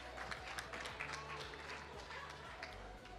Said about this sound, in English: Can we give Honorable Emma a loud round of applause,